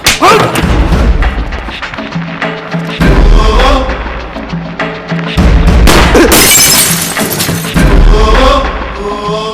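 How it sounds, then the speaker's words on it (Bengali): Loud gunshots ring out in a movie scene, with repeated heavy booming thuds and sharp cracks coming in bursts over about ten seconds, mixed with shattering noise. "গুলির আওয়াজ শুনে এটুকু ফেটেছে"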